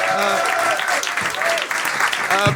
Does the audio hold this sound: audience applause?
yes